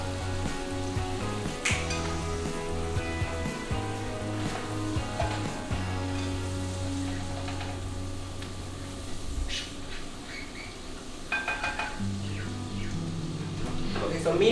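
Onions sizzle and fry steadily in a pan seasoned with Goya all-purpose seasoning, a continuous crackling hiss with occasional stirring clinks and a low hum, while a person talks intermittently nearby.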